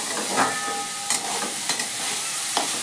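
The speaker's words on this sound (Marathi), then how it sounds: "थोडंसं असं मधून हलवत राहायचं" Radish leaf greens being stirred in a pan over low heat: a steady soft sizzle and frying hiss with scattered scrapes of the spoon against the pan, close by and with no one talking.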